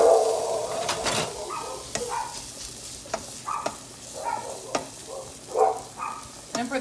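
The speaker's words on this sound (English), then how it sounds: "But while that's sauteing, I do add the curry powder." Vegetables sauteing in a pan give a soft, close sizzle broken by repeated clacks and scrapes of a utensil stirring, irregular knocks spaced through the stretch, with no talk.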